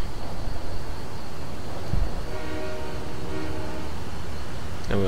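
A Canadian National train in the game Railworks 2 rumbles along steadily with a horn sounding midway, loud and close, wheels clattering under the drone.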